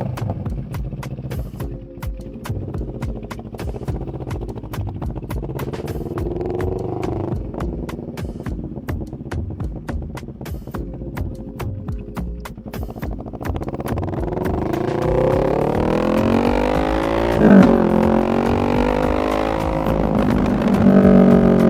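A Moto Morini X-Cape 650 ADV-R with a high-mount FMF exhaust, run without its dB killer, is ridden. The engine drones throughout and grows louder and rougher with revving in the second half.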